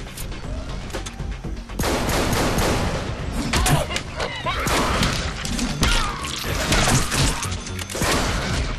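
Gunfire in the Deadpool video game: dense, loud bursts of shots mixed with heavy thuds and crashing impacts throughout, dropping briefly before surging again, with some speech in the mix.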